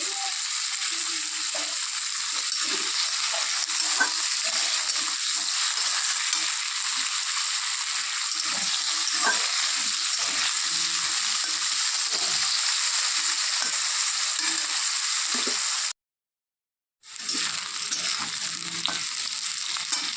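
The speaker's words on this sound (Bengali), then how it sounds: "আলু ভাজা হয়ে গেছে" Cut potatoes with a little salt fry in a pan, giving a steady, close sizzle with faint stirring scrapes, broken by a brief silence near the end.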